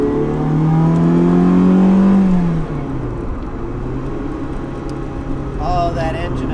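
A Ferrari-engined Porsche running steadily on a drive, its loud low engine drone rising in pitch for the first two and a half seconds, then settling into a lower, even hum, with a voice talking briefly near the end.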